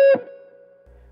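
A single electric guitar note from a solo rings out after a quick pick attack, bending and then sustaining as a steady fading tone, close and alone.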